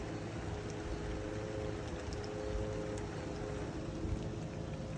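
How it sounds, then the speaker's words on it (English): Steady rain falling outdoors, a continuous broadband hiss with faint scattered drips, even in level throughout, alongside a low rumble and a faint steady tone. "it's raining outside."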